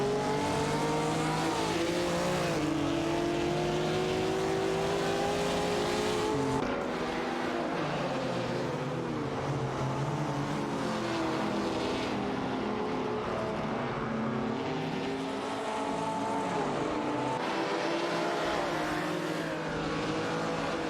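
Race cars in an AI-driven racing video game roar continuously for the full stretch, engines rising and falling in pitch as they shift and pass, with occasional tire squeal, loud and close with no talking.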